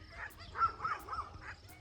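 Several dogs bark in a quick, faint series of four or so yaps from a garden, as if wanting to be let out, heard at a distance with no talk.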